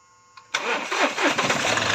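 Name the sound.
Mahindra Bolero Power Plus engine starting with self-starter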